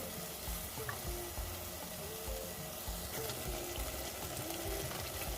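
Nigerian ogbono soup cooking in a pot, giving a continuous soft bubbling and sizzling simmer with faint stirring scrapes, steady and close but low in level.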